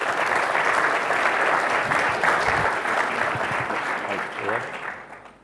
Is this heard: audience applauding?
yes